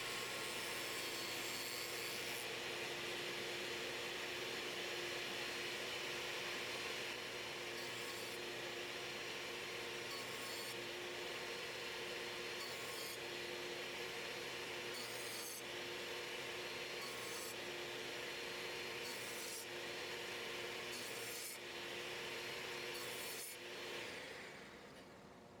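A table saw fitted with a dado blade cuts into vertical wood pieces for a tabernacle frame's outer base, giving a loud, steady whining roar with periodic surges as the wood passes through. No speech.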